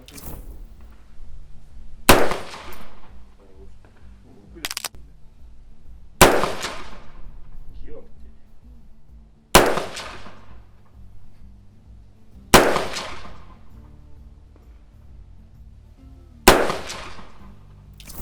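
Six loud, sharp Haenel CR308 rifle shots, fired from a seated position, each cracking out alone and separated by several seconds of quiet, with a short ringing tail after each report.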